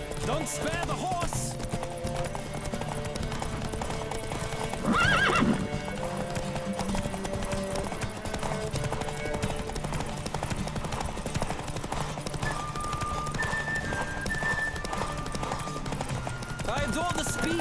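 Hoofbeats of a galloping horse in The Witcher 3 video game run steadily through the scene, with a whinny and louder burst near the middle, set against game music and ambience.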